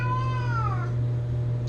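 A solid gray house cat gives one clear, close meow with a falling pitch, followed by quiet room hum.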